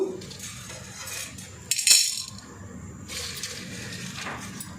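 Peanuts and chana dal dropped into a pan set on the stove, a brief rattling clatter of hard grains hitting metal in the middle, then soft scraping and low kitchen clatter, fairly quiet and with no talking.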